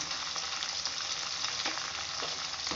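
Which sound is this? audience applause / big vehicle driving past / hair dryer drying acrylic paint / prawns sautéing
prawns sautéing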